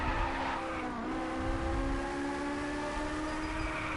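A Ferrari drifting in the racing game Drive Club, its engine holding a steady high whine with a sustained tire skid, loud and continuous with no talk.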